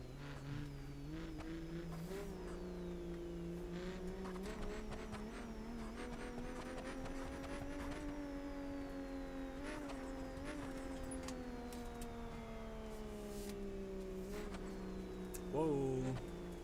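A broken Mustang drifting in a sim racing game, its engine droning steadily with rising and falling revs and tire noise throughout, and a voice talking over it.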